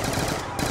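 A gunshot goes off in the Black Ops 2 Zombies video game, one short loud burst that fills the brief moment, with no talk over it.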